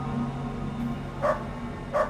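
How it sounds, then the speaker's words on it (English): A dog barks twice in the video game Underrail, short sharp woofs about three quarters of a second apart over a steady humming game ambience, fairly clear and mid-distance, with no talking. "What is that? Captain Svan and a dog."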